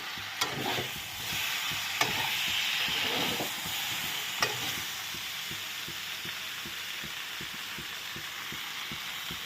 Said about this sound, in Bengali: এখন দেখো শাকগুলো আস্তে আস্তে করে দিয়ে দেব।